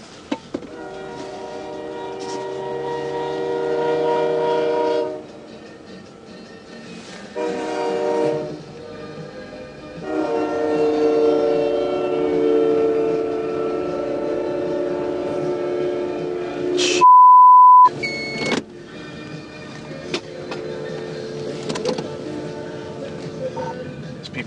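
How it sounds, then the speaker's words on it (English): A train horn blares in long sustained blasts over the rumble of passing rail cars after a train struck a truck at a crossing, loud and near, with a sharp tone and a brief clatter partway through. "I just had a train strike a truck out here at 7 and 101."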